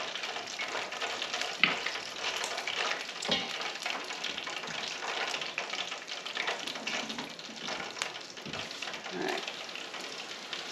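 Chicken wings frying in a fryer basket, a steady crackling sizzle of hot oil with scattered pops and light metallic knocks, close and continuous for about ten seconds.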